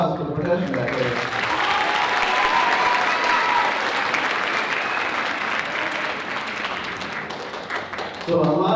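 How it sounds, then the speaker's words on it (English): Audience at a school winter concert applauding the percussion section, a dense sustained burst of clapping from a crowd with a voice speaking over it at the start and end. "Round of applause for the percussion back there."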